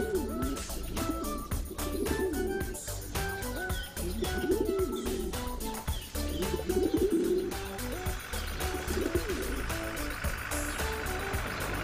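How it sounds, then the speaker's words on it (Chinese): Cartoon pigeons coo repeatedly as they are fed outdoors, the soft rhythmic calls set against continuous bright background music throughout. "他在室外喂鸽子"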